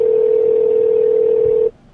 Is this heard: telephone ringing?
yes